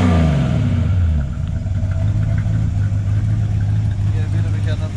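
A Ford V8 engine runs loud and close, dropping from a revving roar to a steady, rumbling idle.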